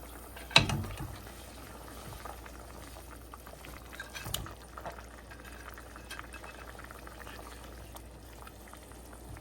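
Water bubbles softly in a pot of pangas fish curry with eggplant, a quiet steady boil after a brief clatter at the start.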